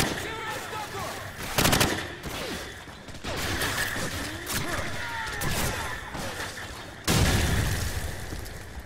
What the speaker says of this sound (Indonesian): Mana sih ini yang nembakin mulu?